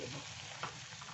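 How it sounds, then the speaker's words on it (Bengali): Apple kalakand mixture stirred in a hot wok, a dense continuous sizzle with a brief scrape of the spatula, close and steady. "আমি একটু নাড়াচাড়া করে বন্ধ করে দেব"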